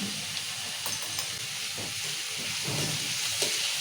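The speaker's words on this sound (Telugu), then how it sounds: "కలిపేసుకుందాం అలమే వేసాం కదా ఇక పప్పు కూడా వేసుకున్నాం" Egg and chana dal curry with onion and ginger being stirred in a hot pan: a steady close sizzle with soft, repeated scraping stir strokes, no talking.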